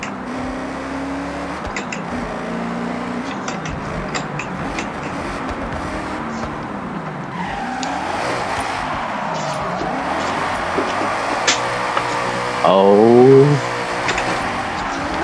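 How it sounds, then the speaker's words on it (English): A roughly 700 HP drift car in Forza Horizon at night roars steadily as it climbs into fourth gear and slides, with tire squeal rising toward the end, and a voice briefly exclaims. "We're getting up into 4th and drifting."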